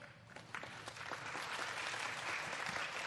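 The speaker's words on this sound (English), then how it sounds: "Another round of applause to our distinguished guests on the stage." Sustained applause from a seated audience at a forum roundtable, welcoming distinguished guests on stage; dense, steady clapping that builds slightly and holds at moderate level throughout.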